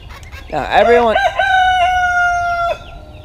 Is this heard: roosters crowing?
yes